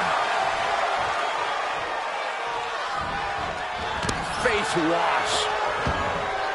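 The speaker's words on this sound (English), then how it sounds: "The roar of this crowd has been building, and they are at a fever pitch right now" A loud, steady crowd roar fills a match between Marvel Zombies and the Midnight Sons, with a brief voice and a few thumps near the end.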